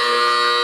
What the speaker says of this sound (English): You mind if I press it?